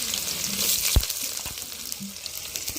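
Onions and green chillies fry in a hot pan for a pulao, a steady close sizzle with soft stirring scrapes and a brief clack of a utensil, no voices.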